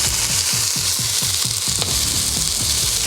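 Smashed burger patties sizzle loudly on a hot griddle, a steady crackling hiss with a rhythmic series of soft scraping pulses running through it, close and alone with no voices.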